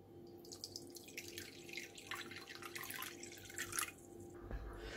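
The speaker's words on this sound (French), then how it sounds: "je vais mettre dans un saladier 150 ml d'eau tiède" Lukewarm water pours into a salad bowl in a kitchen, a soft steady splashing and trickling that swells and ebbs over several seconds, close by and moderately quiet with a faint background hum.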